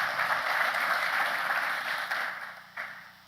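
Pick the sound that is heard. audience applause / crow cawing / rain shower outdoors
audience applause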